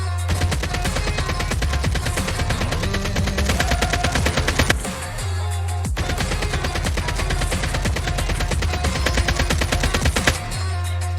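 An AK-117 rifle sprays full-auto in a video game: two long, loud, rapid bursts of gunfire, split by a short pause, with no voices.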